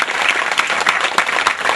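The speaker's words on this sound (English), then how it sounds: "Give a big clap to Bhumeshwar Reddy." A gathered audience breaks into loud, dense applause for Bhumeshwar Reddy, a brief continuous burst of many hands clapping close by.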